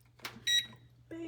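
Oven control panel beeping as it is set for baking at 375, a single short bright electronic beep heard close by, with quiet kitchen hum beneath and a brief noise just before it.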